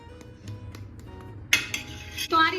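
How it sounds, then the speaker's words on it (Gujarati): A metal spoon clinks lightly against a roti griddle (tava), then scrapes across it, spreading ghee over the hot iron surface in a few close, brief strokes. "મેં એક ચમચી ઘી લીધું છે જેને આપણે આ રીતે બધી બાજુ ફેલાવી દઈશું"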